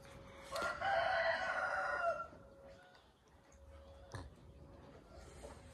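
A rooster crows once, fairly distant, in a village early in the morning, over a quiet outdoor background with a faint steady hum.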